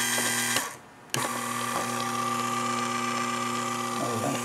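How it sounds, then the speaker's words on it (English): An FMI QVG50-1 metering pump, run by an FMI V200 stroke rate controller, gives a steady mechanical whine and hum. It cuts out briefly, then restarts with a sharp onset and runs on evenly, with slight shifts near the end. "Let's turn it on. Now the pump will go both directions."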